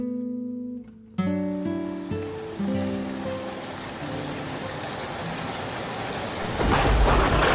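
Heavy rain pours steadily on a stormy night with thunder, a loud crack near the start followed by rumbling, and the downpour swells louder toward the end.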